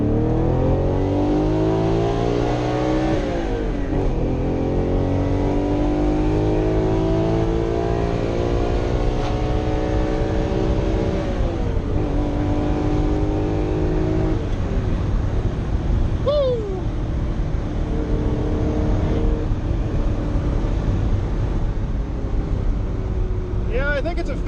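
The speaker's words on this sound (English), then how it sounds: "We did a Capristo exhaust on it, which you can definitely hear." A Ferrari Testarossa with a Capristo exhaust revs hard through rising, climbing sweeps toward the redline, loud and close, with a voice talking intermittently over the engine.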